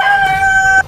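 A rooster on a Korean farm lets out a single loud, close crow, a sustained clear call that cuts off abruptly just before the end.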